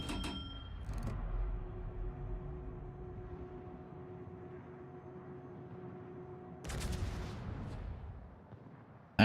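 Naval guns firing in World of Warships, a sharp loud report at the start fading into a long low rumble and steady engine hum, then a second burst of gunfire later, with no talking.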